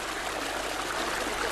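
A stream of water flows steadily, a soft continuous hiss and trickle where women wash pig intestines for making sausages.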